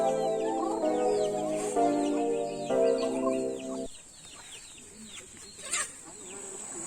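Chickens at a rural campsite cluck nearby in a series of rhythmic, stepped calls, with smaller birds chirping in the background and a quieter stretch of scattered clucks afterward.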